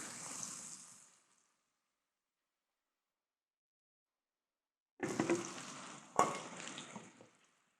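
Ground spice paste for goat curry sizzles in a hot pan, a close hissing fry that stops, then returns after a long silence with stirring scrapes and a sharp clatter.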